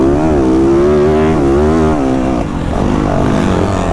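A motocross motorcycle on a track accelerates hard, its loud, rising engine whine holding for a few seconds, then briefly dipping before building again, close and alone without speech.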